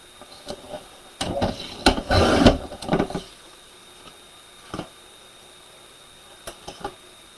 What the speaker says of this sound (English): trim remaining piece to 2 3/4, or sorry, 2 3/8